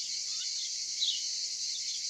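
Crickets chirp outdoors in a dense, continuous high trill, steady and fairly loud, with a faint bird note briefly rising at the start.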